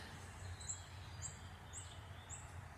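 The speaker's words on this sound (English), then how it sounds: "Listen to the birds." Four high, thin bird chirps repeat at an even pace outdoors by a garage, faint and distant over a low steady background rumble.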